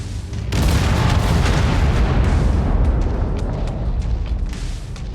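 Missile explosions in the MechWarrior 5: Mercenaries video game, a loud sustained roaring blast of booms and rumble that erupts suddenly after a brief quiet moment and stays dense throughout.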